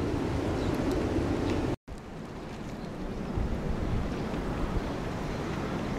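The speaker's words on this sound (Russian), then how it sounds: "Крупинки какие крупные падают. Град идет, как при снегопаде." Steady hiss and patter of large hailstones falling outdoors at an apiary in March, a dense continuous crackle mixed with wind, interrupted by a brief gap.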